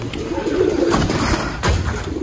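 Caged native pigeons coo in a low, throaty murmur close by, a male chasing a female, with a soft steady rumble underneath and no talk.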